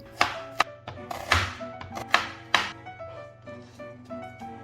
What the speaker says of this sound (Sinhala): මම ලොකු ලුණු ගෙඩියක් හීනියට කපා ගන්නවා